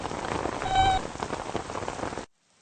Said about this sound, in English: During the rainy season, the savanna can get flooded.